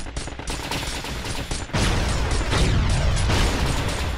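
Rapid gunfire from a boss enemy in the shooter game Binary Domain, a dense, continuous barrage of shots and booms, loud and close, rising in intensity partway through with no talk.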